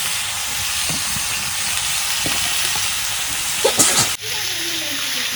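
Spices hit hot oil for a Bengali tempering (bagar), giving a loud, steady broadband sizzle with a few scraping stirs and a sharp burst near the end, after which a quieter hiss continues.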